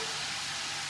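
Garlic frying in a pan of fresh olive oil gives a steady, close hiss of sizzling, with no talk over it.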